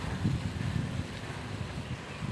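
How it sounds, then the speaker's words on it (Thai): Outdoor wind buffets a microphone while someone cycles, producing a steady low rumbling roar with uneven gusty swells throughout. "ลมพัด ลมพัด ลมพัดอากาศดีม ากเลยค่ะ"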